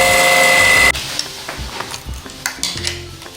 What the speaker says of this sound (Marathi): हे मिक्सरमध्ये पेस्ट करणार आहोत